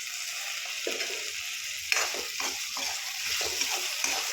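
Two medium tomatoes fry in a pan for egg curry. A close, crackling sizzle runs throughout, broken by a series of scraping stirs and light clatters toward the end, with no voices.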